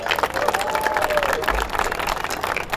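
Applause from a crowd at a New York event, dense and steady over a murmur of voices, with a faint whistle-like tone sweeping through midway.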